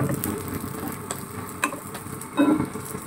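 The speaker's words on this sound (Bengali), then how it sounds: "ব্যাস হয়ে গেল ডিম ভাজি করা।" An egg frying in a pan, a steady soft sizzle with faint crackles and a couple of light utensil taps, close and alone without talk.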